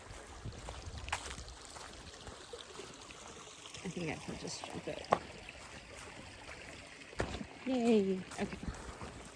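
Hiker wading through a shallow stream on a woodland trail, water trickling and splashing steadily under brief spoken remarks and a small cheer.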